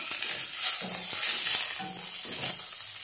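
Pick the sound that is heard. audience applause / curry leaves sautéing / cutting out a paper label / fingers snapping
curry leaves sautéing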